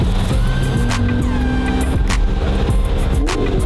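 A twin-turbo Lamborghini Murcielago SV drives with its engine droning loudly up close, the pitch sweeping and stepping as gears change, with sharp clunky bursts at each shift.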